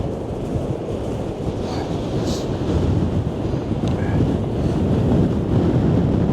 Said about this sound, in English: You get great views when the waves are smashing in.